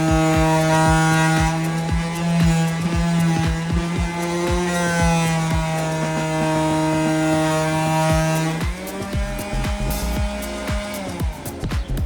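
A power sander works over wood on a Subaru Sambar kei truck being built into a food truck, a loud steady motor whine with a strong harmonic hum that shifts pitch near the end, running continuously with no talk.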